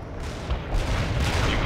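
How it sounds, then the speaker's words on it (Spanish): Machine gun fire in the strategy game World in Conflict, a dense continuous roar of rapid battlefield shooting and booming, loud and unbroken through the short moment. "¡Disparad la ametralladora!"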